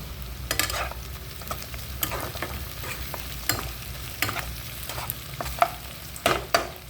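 Onions softening to light brown as they fry in a pan for an egg curry, a steady close sizzle broken by repeated sharp scrapes of a spoon stirring them, with no one talking.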